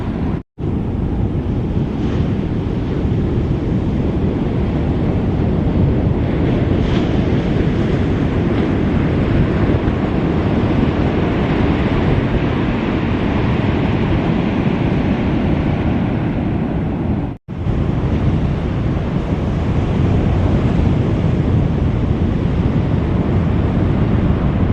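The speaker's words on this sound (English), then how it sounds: "You can hear the bubbles. In the sand as it washes over." Waves wash steadily over sand at St Lucia Estuary, a continuous close, loud hiss and rush of water with fizzing, heavily mixed with wind buffeting the microphone.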